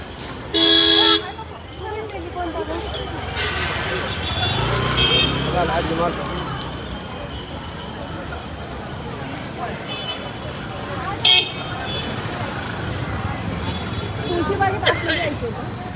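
Auto rickshaw arriving on a busy street with car horns honking repeatedly, loud toots near the start and middle over constant traffic rumble, with people talking nearby.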